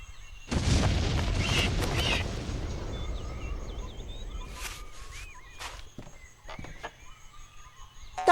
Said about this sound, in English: my friend the Flea will fire a cannon